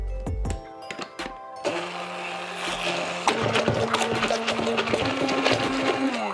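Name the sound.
immersion blender blending sugar and eggs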